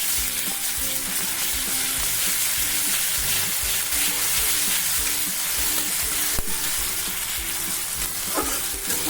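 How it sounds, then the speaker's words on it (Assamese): Ginger-garlic paste fries in a pan with oil, giving a steady, dense sizzle that runs unbroken throughout, with a few light stirring scrapes near the end and no talking. "আদা নহৰুখিনি পিচি লৈছিলোঁ যে, 1 চামুচ দি দিছোঁ আৰু ভালদৰে এনেকৈ ভাজি ল'ম।"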